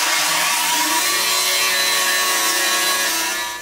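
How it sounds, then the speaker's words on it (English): A power sander runs steadily against an aluminium boat part, a loud continuous whirring grind with a slight pitch shift near the start, close and uninterrupted. "Just give it a quick little clean up with the sander."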